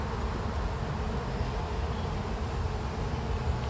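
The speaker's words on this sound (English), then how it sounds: "these bees are fighting down here" Honeybees at a hive, buzzing densely and steadily in a continuous drone, fairly close, with a few bees fighting low down near the hive. No voices are heard.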